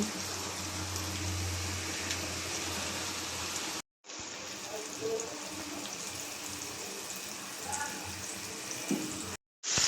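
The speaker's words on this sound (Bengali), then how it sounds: "আমার চাইনিজ প্লেটারে চিকেন ফ্রাই করে নিতেছি" Chicken pieces frying in hot oil for a Chinese platter, a steady dense sizzle running throughout with two brief dropouts, close and fairly loud.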